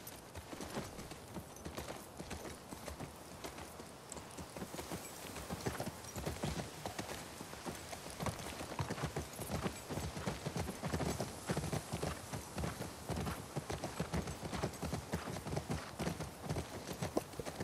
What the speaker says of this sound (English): Oh, glitchy horse.